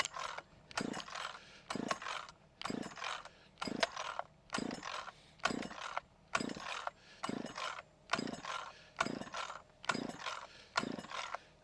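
An Echo chainsaw being pull-started with the choke on, a steady series of about fifteen rasping rope pulls in even rhythm, each a short whirring burst separated by brief pauses, close and moderately loud without the engine catching.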